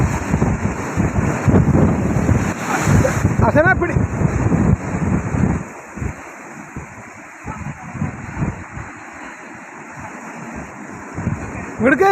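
Strong wind buffets the microphone at sea off Salalah, roaring steadily with water wash beneath, while voices talk and call out over it.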